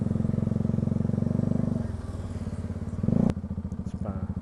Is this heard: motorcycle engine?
yes